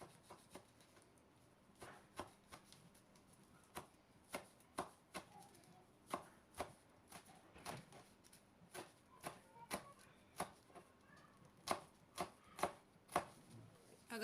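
A knife finely chops two green chillies on a board for cabbage pakora, giving a quiet, uneven run of crisp taps that cluster in short bursts and grow slightly stronger near the end, with no voices.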